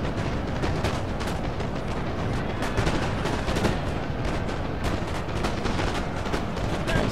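Musket volleys from Napoleonic infantry in the Waterloo battle of the strategy game Napoleon: Total War, a dense continuous roar of overlapping gunfire and crackling shots, loud and unbroken, with no speech.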